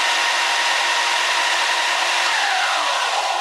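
A Mastercraft 4x36 belt and disc sander runs steadily under power, giving a loud, continuous broadband whir with no pauses or talk.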